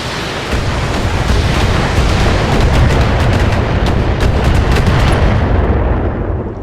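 Mech weapons in Battletech fire in a dense, roaring barrage, loud and unbroken, with rapid repeated cracks riding on a wash of broadband noise.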